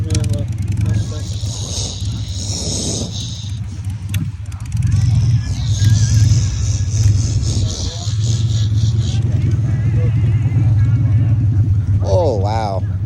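A Shelby Mustang fitted with drag tires rolls in at a car show, its engine a steady low rumble throughout, with crowd chatter and voices over it.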